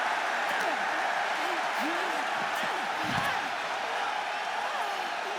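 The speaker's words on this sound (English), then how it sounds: "Taking a moment to get pumped off of this crowd's incredible energy" A video-game arena crowd in WWE 2K24 keeps up a steady roar of cheering throughout a wrestling match, with a commentator's voice running over the crowd noise.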